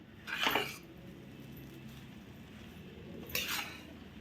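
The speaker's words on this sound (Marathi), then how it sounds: "हे घातलेलं तूप आता मी डवळून घेते" A spoon stirs ghee into savoury tikhat-mith sheera in a pan, giving two short metallic scraping clinks, one near the start and one near the end, over a quiet background hum.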